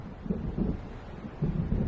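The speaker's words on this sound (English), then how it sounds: "It seems there's a storm coming." Low, rumbling thunder of an approaching storm in the game Alan Wake, rolling in a few soft, muffled swells over a windy, faint background with no talk.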